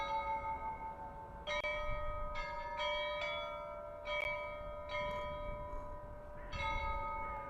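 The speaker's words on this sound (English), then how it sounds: "hearing the chimes out of the church there" Church bells chime at a distance, several struck tones ringing out one after another at an uneven pace, each leaving a long sustained hum that overlaps the next.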